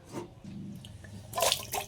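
A few close, wet splashes and plops as sliced potato pieces drop into a bowl of water, after a quiet stretch with faint trickling.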